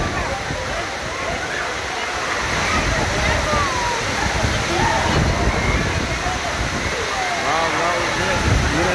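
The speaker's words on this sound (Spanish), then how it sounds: "La verdad está pegando mucho aguaviento" Heavy wind-driven rain downpour in Xochihuehuetlán, Guerrero, pouring steadily and loudly across a sports court for the whole stretch, a dense broadband roar with gusts and splashing close by, people talking faintly beneath it.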